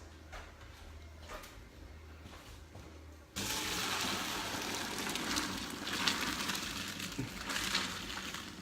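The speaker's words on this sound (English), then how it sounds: "we're going to drain the pasta" Pasta water is poured off into a drain. It starts as a quiet kitchen hum, then a sudden steady rush of splashing water takes over and keeps going to the end.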